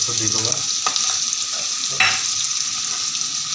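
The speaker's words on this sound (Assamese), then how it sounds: "হালধি দি পিঁয়াজ, নহৰু আৰু আদাখিনি যিখিনি বটা হৈছিলে সেইখিনি দি দিলে।" A paste of turmeric, onion, garlic and ginger frying in hot oil, a loud close sizzle with a few sharp spatters and crackles over a steady hiss.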